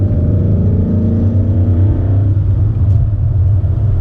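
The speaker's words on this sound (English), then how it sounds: "the exhaust gets a little loud" Ford Mustang exhaust rumbling loudly and steadily up close, a deep low drone holding throughout with a slight shift in tone partway, no talking.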